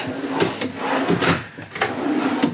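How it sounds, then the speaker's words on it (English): Drawers slide open and shut in quick succession inside a 2018 Allegro RED 37PA motorhome, giving a run of close, loud rattling thuds and scrapes. "all your drawers here."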